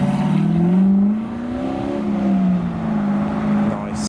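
An LS-swapped TVR Griffith on spider wheels leaves a car show with a deep, rumbling V8 burble, rising and falling as the throttle is blipped, loud and close with no talk over it.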